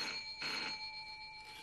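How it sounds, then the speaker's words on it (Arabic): A telephone rings indoors at home: a steady electronic ringing tone with sustained bright pitches, one stronger pulse near the start, moderately faint and heard alone without talk. "حد يرد على التليفون؟"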